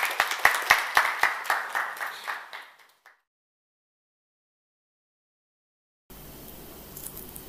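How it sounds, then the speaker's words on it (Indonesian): Applause from a classroom audience at a lesson-study session, a burst of close, distinct claps that fades out over about three seconds, then silence, followed by faint room noise. "Tepuk tangan untuk kita semua."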